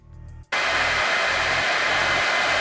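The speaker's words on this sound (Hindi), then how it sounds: "Xiaomi की आवाज थोड़ी ज्यादा है, लेकिन किसी भी आम पारंपरिक हेयर ड्रायर की तुलना में ये दोनों ही काफी कम शोर करते हैं।" A Xiaomi hair dryer switches on after a brief quieter hum and then roars with a steady, loud, even rush of air right up close, with no talk.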